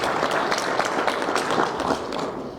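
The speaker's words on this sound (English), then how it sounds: "Another round of applause, ladies and gentlemen." Audience applause after a speaker's introduction at a youth leadership summit, a dense steady wash of clapping from a crowd, moderately loud and continuous throughout with no talk over it.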